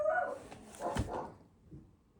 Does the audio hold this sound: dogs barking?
yes